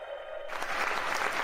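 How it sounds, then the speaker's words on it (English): A brief burst of applause from a crowd, dense clapping that starts abruptly and fills the short moment. "Give myself some applause."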